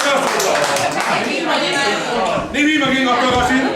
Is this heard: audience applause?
yes